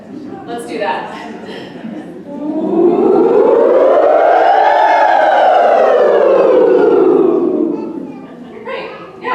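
A group of voices hollers together in imitation of a siren, a rural North Carolina distress farm call that swells into one long rising-and-falling wail lasting several seconds, with brief chatter and laughter before and after.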